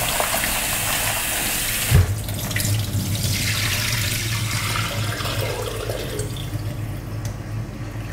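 Cabbage stalks washed under a running kitchen tap, a steady close rush of water with splashing that shifts as the stalks move through the stream, one louder knock near two seconds.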